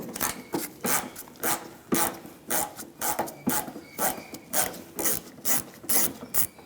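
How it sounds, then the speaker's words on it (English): A Phillips screwdriver backing a screw out of a 1997-2001 Honda CR-V bumper: close, rhythmic ratcheting scrapes in about a dozen regular turns, crisp and fairly quiet, with no talk. "now we're going to take the screw out of the other side"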